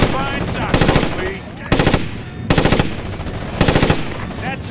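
Repeated bursts of automatic gunfire from Ghost Recon Advanced Warfighter 2, several loud, rapid volleys separated by short pauses, with battlefield noise beneath.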